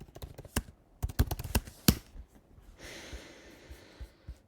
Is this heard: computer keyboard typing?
yes